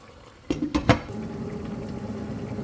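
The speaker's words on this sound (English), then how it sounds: "So let's allow it to boil and let the oil mix up with the meat" Sapa okro soup with oil, meat and seasonings boiling in a pot, opening with a few sharp clanks against the pot before a steady, close bubbling simmer carries on alone.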